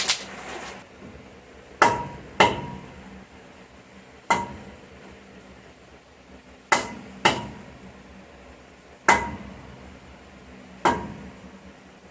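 A hammer strikes a rusted brake rotor on a third-generation Ram 2500 again and again, giving about ten loud, sharp metallic bangs at irregular intervals, close and alone.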